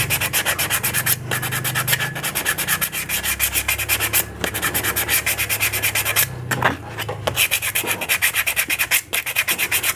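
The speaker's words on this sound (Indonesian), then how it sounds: "Jadi untuk bagian kayak kerak yang kilap di sini kita amplas sampai hilang" Sandpaper rubs back and forth against a glazed scooter CVT clutch bell in quick, steady strokes, loud and close, with a few brief pauses.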